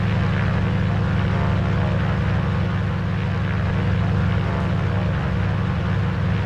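A Grumman Goose propeller aircraft in Microsoft Flight Simulator 2020, flying over the Barrier Reef, gives a steady, loud, droning engine hum with a low throb that holds evenly throughout, with no voices.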